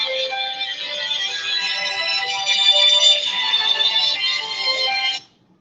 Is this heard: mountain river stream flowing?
no